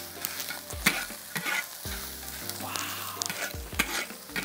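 Egg fried rice tossed and pressed in a wok crackles and sizzles as a metal spatula scrapes and clanks against the pan in irregular strokes, up close with no voices.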